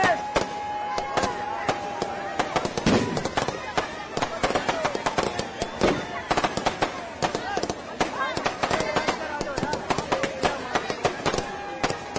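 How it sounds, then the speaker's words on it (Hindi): Dense, continuous fireworks and firecrackers at a Dussehra celebration in Noida where an effigy of Ravana is burned, rapid overlapping bangs and crackles throughout with a steady whistling tone. "रावण दहन किया गया, आतिशबाजी की गई"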